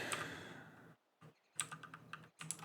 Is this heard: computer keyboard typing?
yes